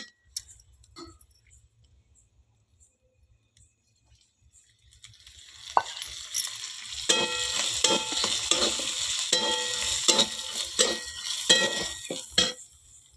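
Okra seeds roasting in oil, likely over a wood-fired clay stove, start up after a quiet opening with a loud, crackling sizzle and rapid popping that keeps on, broken by scraping stirs, with no voices.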